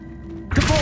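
A short magical whoosh and thunk from the Accio summoning spell in the video game Hogwarts Legacy, a sudden loud burst after a quiet moment that rings out briefly.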